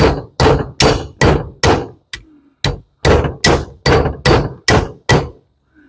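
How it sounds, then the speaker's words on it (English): Brass scrap is whacked repeatedly against a brick to chip plastic off, about a dozen sharp, ringing clanks in a quick, uneven rhythm, loud and close, with no speech. "I just come over to this brick over here, right? And just give it a few whacks."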